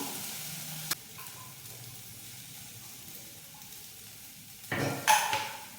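Okra fries in plenty of oil in a pan, giving a faint steady sizzle with a sharp clatter early on and a louder burst of sizzling and stirring near the end.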